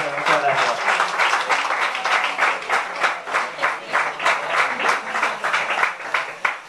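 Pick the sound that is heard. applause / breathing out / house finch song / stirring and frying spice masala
applause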